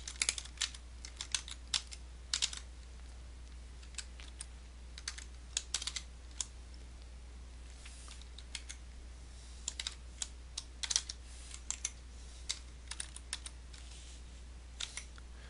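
Keys clatter on a computer keyboard in irregular bursts of close, crisp typing while entering a JavaScript for loop, with a steady low hum underneath and no talking.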